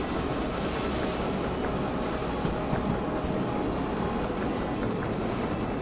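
A freight train in the video game Derail Valley rolls steadily along the rails, giving a continuous, close, heavy rumble with faint clattering and no break in the noise.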